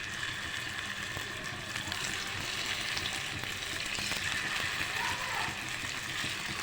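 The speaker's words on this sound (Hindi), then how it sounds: "मैं इसे शैलो फ्राई करूँगी" Beef kebabs shallow frying in oil in a frying pan, giving a steady, dense sizzle throughout with faint clinks of a utensil, close and even in level.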